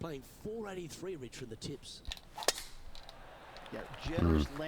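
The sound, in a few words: golf shot in PGA 2K23 video game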